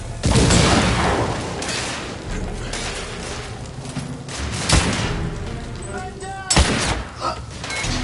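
Grenade explosion in The Order: 1886 game, a loud booming blast at the start fading into rumble, followed by further sharp thuds and bangs amid combat noise.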